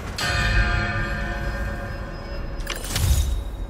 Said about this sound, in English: How do I get the bell into that hangar?